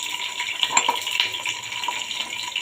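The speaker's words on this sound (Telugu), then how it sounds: "ఇదండి ఇలా ఆయిల్లో ఫ్రై చేసుకుందాం బాగా మగ్గే వరకు." Cut ivy gourd (dondakaya) pieces frying in hot oil in a pan for a masala curry, giving a steady soft sizzle with light crackles and an occasional clink of a utensil, with no talking.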